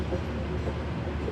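A passenger train sits at a station with its steady low rumble and hum, a continuous mechanical drone heard close by with no talk.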